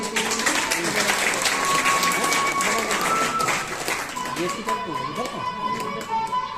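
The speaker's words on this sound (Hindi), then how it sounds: "सब तालियां बजाते रहे" A crowd claps steadily at a birthday celebration as a dancer is called up to perform. The dense, even applause runs for several seconds, with voices and a thin sustained tone above it.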